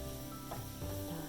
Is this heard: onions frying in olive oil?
yes